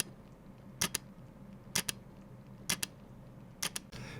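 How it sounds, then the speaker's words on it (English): A Nikon Z5 full-frame camera fires its mechanical shutter four times at roughly one-second intervals, each a crisp, close double click over a quiet room, with a brief rustle at the end. "Let's just hear the mechanical shutter of Z5."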